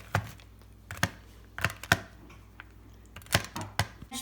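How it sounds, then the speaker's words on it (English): A knife chops dried cranberries on a chopping board, making about ten sharp, separate taps at an uneven pace. The taps sound close but fairly quiet, with a faint background hum. "put the raisins on the chopping board and start chopping"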